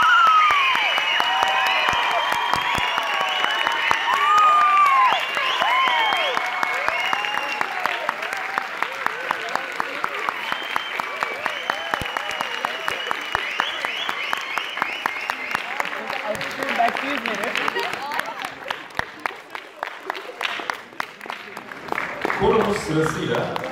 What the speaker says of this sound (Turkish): Şimdi alkışlarınızla orkestramızın ve korumuzun şefi Akgün Çak.